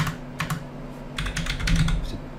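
Keys clatter on a computer keyboard in quick, close bursts of typing while a flight simulator joystick is being set up, with a low hum underneath.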